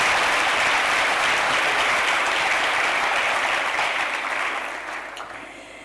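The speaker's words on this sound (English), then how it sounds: "Can we give them a round of applause?" Audience at a university chancellor's fundraising gala dinner applauding loudly and steadily, a dense sustained clapping that fades toward the end.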